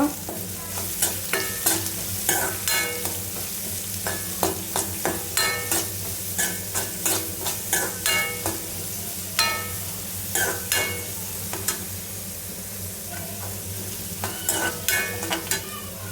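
Egg puff filling frying in a pan at home, a steady low sizzle with repeated quick scraping clicks from stirring in bursts, pausing midway before resuming, close and moderately loud.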